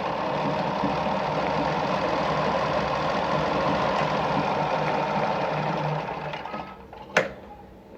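An Ideal Automatik sewing machine stitching through fabric at a short stitch length gives a fast, steady mechanical whir and chatter that runs evenly and then winds down near the end, with a brief click as it stops.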